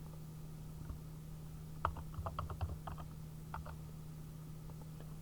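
A short run of keystrokes on a computer keyboard while entering text in App Inventor, a few quick clustered taps over a steady low hum, fairly faint and with no talking.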